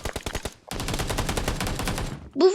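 Rapid bursts of automatic-sounding gunfire in the video game PUBG, dense and loud at close range, ending in a brief louder shot.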